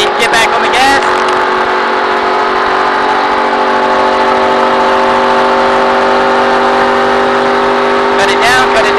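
A race car engine at Michigan International Speedway drones loudly and steadily from inside the cockpit, its pitch holding or rising slightly as the driver gets back on the throttle. A coach's voice cuts in briefly at the start and near the end.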